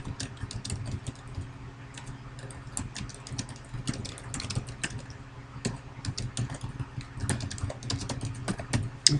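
Typing on a computer keyboard to enter text into a whiteboard text box, rapid irregular key clicks running steadily throughout, close and clear with no talking.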